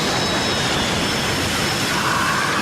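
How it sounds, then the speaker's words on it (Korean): A film scene of an airplane crashing into the sea: a loud, continuous roar of aircraft engines and rushing air, dense and alone with no voices. "결국 바다에 추락하고 만 비행기."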